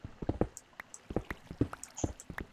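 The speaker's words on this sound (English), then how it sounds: "I hear water, though." Water drips in a Minecraft cave in a video game: a series of soft, irregular plinks and drops at low level, several per second, with no talk over them.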